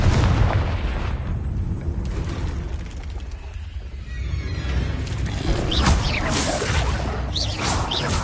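Repeated Confringo blasting-spell explosions in the Hogwarts Legacy video game, loud and continuous booming with crashing debris and whooshes filling the whole stretch.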